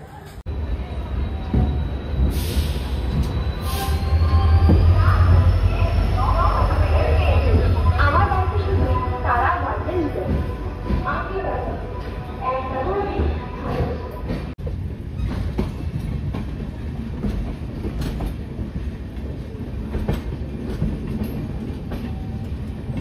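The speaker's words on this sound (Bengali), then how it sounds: "আজকে শালিমার পুরী সুপারফাস্ট এক্সপ্রেস।" Shalimar–Puri Superfast Express, running late out of Kharagpur Junction, heard as a steady, loud rumble of rolling rail wagons with low drone and clatter throughout, swelling early on, with faint voices mixed in.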